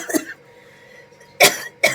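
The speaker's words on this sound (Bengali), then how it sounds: "কি কাশি হচ্ছে দেখো" A person coughs three times at close range, one cough early, then two sharp ones in quick succession near the end, with quiet between.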